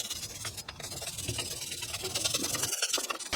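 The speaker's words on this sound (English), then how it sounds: "I'm just going to use a regular wire brush and brush some of this dust and dirt off of there" A wire brush scrubs dust and dirt off a rear brake caliper bracket on an Acura TL, a close, rough, scratchy rasping in uneven strokes.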